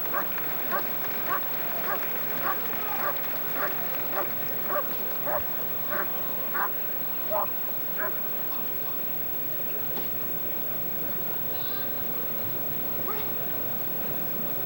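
During a 1991 Schutzhund dog sport trial, a dog barks in a steady, evenly spaced series of about fifteen sharp barks that fade out partway through, heard at moderate distance over outdoor background noise.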